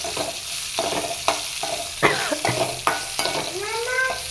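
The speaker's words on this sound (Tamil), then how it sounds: "காய் எண்ணெயிலே நல்லா வணங்கணும்" Cauliflower sautéing in oil for curry kulambu sizzles loudly up close, broken by repeated scraping and stirring strokes against the pan and a few brief clanks.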